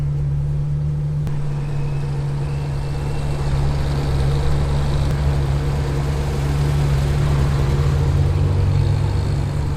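A Ferrari on the Montlhéry speed ring at an Italian car meeting, its exhaust a steady, loud low engine drone that holds for the whole stretch with no speech.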